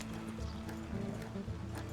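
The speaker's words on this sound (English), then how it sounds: "So we're just taking the stagecoach to Emerald Ranch now?" Horse-drawn stagecoach rolling along in Red Dead Redemption II, with steady clip-clop of hooves and a low rumbling drone running continuously and fairly close throughout.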